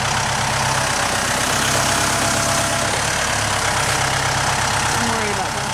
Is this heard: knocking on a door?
no